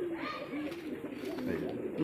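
Madrasi pigeons in a loft give a close, continuous low cooing throughout, with light chirps and scuffling in the background.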